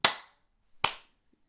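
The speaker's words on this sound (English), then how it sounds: "we'll do the clap as well, actually." Sharp, close hand claps, made to sync audio while recording a podcast. Two crisp, isolated claps land less than a second apart in a quiet room, each with a brief ringing tail.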